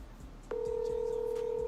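Telephone dialing a call, a single steady electronic tone starting abruptly and holding without a break, faint background noise beneath.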